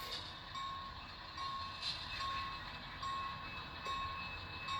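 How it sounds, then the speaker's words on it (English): A freight train in a stockyard industrial lead slowing under brake application, a steady rolling rumble with a faint high tone and intermittent squeal-like whines, continuous and fairly close, no voices. "I'm gonna take the speed all the way down now and start applying the brake"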